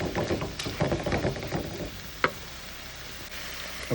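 Tomatoes sauté in a pan for brinjal chutney, a dense crackling sizzle with stirring knocks that eases to a softer hiss after a couple of seconds, close and without voices.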